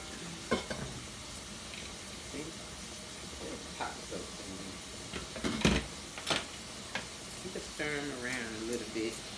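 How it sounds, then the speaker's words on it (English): Cabbage frying in an open pot, stirred with a utensil to a steady sizzle, with scraping stirs and clinks coming in bursts as a person talks over the cooking. "Get it nice and done, stir it around a little bit."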